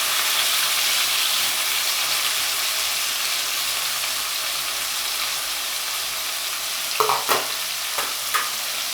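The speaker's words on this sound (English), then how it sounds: "I'm gonna saute the fresh herbs except the thyme." Fresh herbs sizzle in about two teaspoons of hot vegetable oil, a dense continuous frying hiss that stays loud and close, with a few utensil knocks and stirring scrapes near the end.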